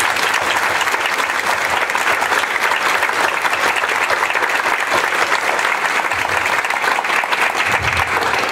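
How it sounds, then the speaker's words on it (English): A seminar audience applauds steadily and loudly throughout, a dense, even wash of clapping with no pauses. "Let's give them a round of applause."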